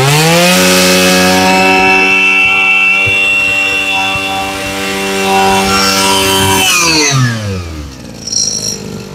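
A Japanese Mitsubishi brush cutter with a 32 mm engine from 2003 revs hard at full throttle, a loud, close, buzzing two-stroke whine held steady, then dropping in pitch as the throttle is released.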